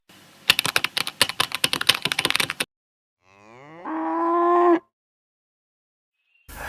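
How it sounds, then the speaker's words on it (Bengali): A cow lowing in distress after a snakebite in a cartoon, one long drawn-out moo that swells and cuts off, following a burst of rapid clacking taps. "আমার গাভীটাকে সাপে কেটেছে"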